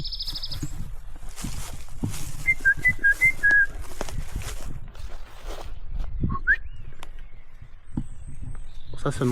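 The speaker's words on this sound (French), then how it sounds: "Ça c'est un oiseau lautois timide qui ne veut pas me répondre." Out in the Lot countryside, a faint bird gives a short series of soft whistled notes, then one brief call later, over outdoor ambience with footsteps and a person whistling nearby.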